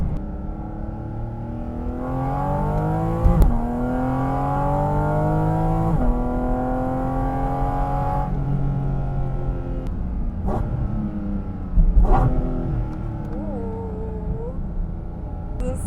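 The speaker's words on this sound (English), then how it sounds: "you do hear like the motor and all the air being sucked in through the vents" A Porsche Cayman GT4 RS engine roars up through the gears, its pitch climbing then dropping at each shift, with a loud, rushing intake sound close by.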